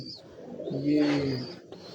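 Pigeons at a rooftop loft give a short, close, throaty coo, a single rolling call with faint background noise.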